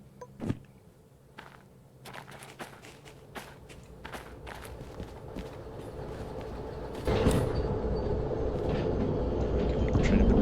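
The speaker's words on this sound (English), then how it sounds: "Giving the train a bit more juice." Train shunter in the Derail Valley game starts off with scattered clanks and footstep-like thumps, then a rising rumble that steps up in loudness as the locomotive accelerates.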